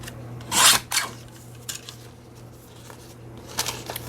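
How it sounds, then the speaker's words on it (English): Scissors snip and rasp through a paper envelope while its flap is trimmed, giving a few short crisp cuts and rustles over a steady low hum, fairly close and alone without talk. "Cut off the, oops, won't fit. Cut a little bit more off. Cut the flap off."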